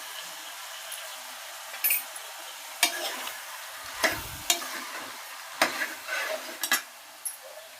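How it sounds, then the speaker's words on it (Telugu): Chicken curry with turmeric being stirred in a pan, with a soft sizzle beneath scattered spoon scrapes and clinks arriving at irregular moments, moderately close. "కొంచెం బాగా కలుపుకొని"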